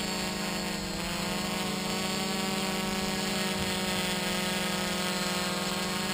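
A HOVERTHINGS HT-FPV quadcopter drone with NAZA M GPS flies outdoors over a park, giving a steady, loud, close buzzing whine of spinning rotors that holds constant, with no talking.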